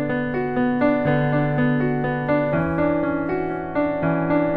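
Sustained piano chords from the verse of a song, played alone and close, each chord held and ringing about half a second before the next in a steady pulse.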